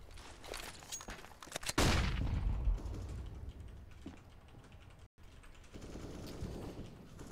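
Rapid clicks and a sharp burst of spraying gunfire from a Counter-Strike match on the Vertigo map, fairly faint, with mechanical clatter and brief quiet gaps.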